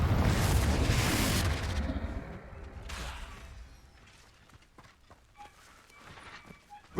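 In Hogwarts Legacy, a Confringo fire-blast spell goes off as a loud, heavy blast that rolls on for a couple of seconds before dying into faint clatter and a smaller burst.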